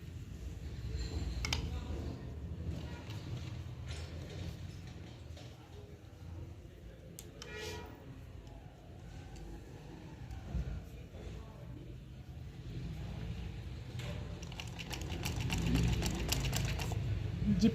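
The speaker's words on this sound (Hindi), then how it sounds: "तो अब हम यहाँ पे सिलाई लगाएंगे इसमें।" A sewing machine stitches a zip into trousers, faint ticking and whirring bursts under quiet talk, with a steadier run of stitching growing louder toward the end.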